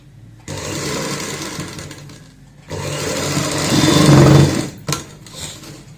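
A sewing machine joins a baby frock seam in a steady motor whir. It starts after a brief opening burst, pauses, then runs again louder and closer.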